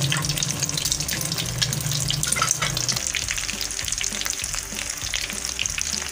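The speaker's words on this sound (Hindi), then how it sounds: "अब मैं इसको करूँगी फ्राई।" Spinach and cheese cutlets frying in a hot pan give a loud, dense, continuous crackling sizzle with a low hum under it that drops away after about three seconds. No one talks.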